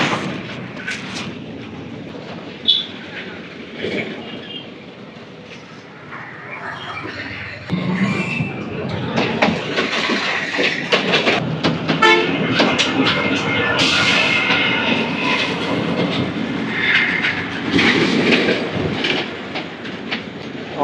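A train at Amudalavalasa railway station, a broad rumbling roar with clattering and sharp knocks that swells louder after the first few seconds and stays steady and close to the end.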